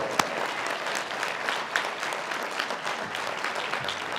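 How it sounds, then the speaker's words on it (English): Commencement audience applauds family and friends at a 2021 high school graduation ceremony, a steady, even wash of clapping from a large crowd with a few sharper claps standing out, continuing throughout. "Let's have a round of applause for our family and friends."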